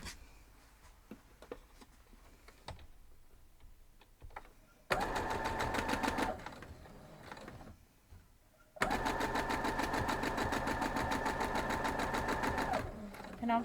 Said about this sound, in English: Now we'll head over and sew these up.